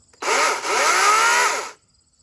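A loud 80V Masterforce battery chainsaw whirs up abruptly, holds a high revving whine for over a second with a brief dip, then cuts off.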